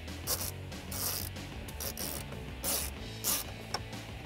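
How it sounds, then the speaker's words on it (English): Ratchet with a 7mm socket tightening factory screws on mounting brackets in a 2009-2018 RAM 1500 dash, soft close clicks in several short bursts with scraping between, no talking. "Then we can take our 7mm socket and secure down the other two mounting"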